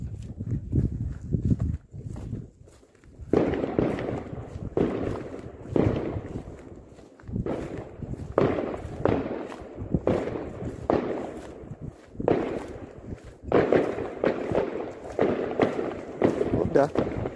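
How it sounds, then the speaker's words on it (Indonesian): New Year fireworks and firecrackers going off across Poland, a long run of repeated sharp bangs and crackling bursts at varying distances, some close and loud, others far, with voices talking in between. "Suara petasan mulai bermunculan guys"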